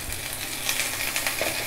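Pointed gourd and browned chopped onions frying in a pan, giving a dense steady sizzle with light crackles, close and alone without talk.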